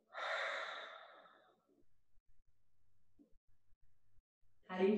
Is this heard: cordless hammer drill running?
no